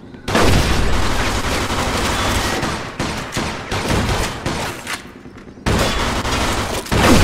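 Sustained gunfire from the video game Mafia II, a loud, dense fusillade of rapid shots with short breaks and a renewed burst near the end, with no talk over it.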